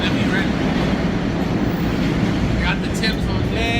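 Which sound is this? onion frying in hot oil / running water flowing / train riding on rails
train riding on rails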